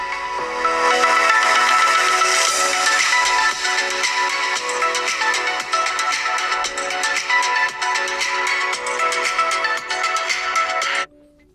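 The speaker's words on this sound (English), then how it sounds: "let's actually listen to some sounds on this phone" An OPPO A6 Pro 5G phone speaker playing a loud, continuous melodic tone sequence at close range, full and steady until it cuts off abruptly near the end.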